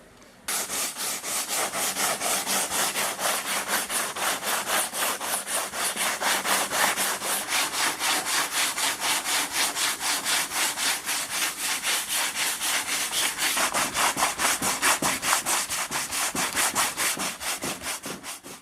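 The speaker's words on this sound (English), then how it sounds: "I put on the fiberglass filler and sanded it down." Rapid, rhythmic abrasive rasping of sanding down fiberglass filler goes on steadily for a long stretch, close and loud, with quick back-and-forth strokes and no talk.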